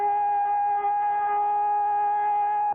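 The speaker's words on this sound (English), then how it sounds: "the sound of the siren does not bother" A steady electronic siren in Honolulu holds one unwavering tone with layered harmonics, loud and close, sounding alone for a few seconds before cutting off abruptly.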